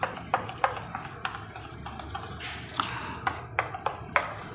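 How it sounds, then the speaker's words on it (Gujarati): A spoon stirring raita ingredients (chana, onion, red chilli, coriander, sugar) in a bowl, giving a series of light, close clicks and taps against the bowl at an irregular rhythm, with no talk. "હવે આ બધું મિક્સ કરી દેવાનું।"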